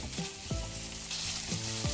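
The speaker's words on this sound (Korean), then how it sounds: "이제 냄비에 소고기를 먼저 볶아주세요" Beef sizzles steadily in a hot pot, with a few short stirring scrapes over the crackling.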